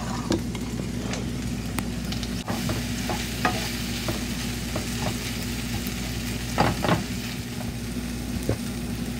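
Ivy gourd and onion paste sizzling steadily in a pan, a constant frying hiss with occasional scraping and clinks as the mixture is stirred, heard close and alone.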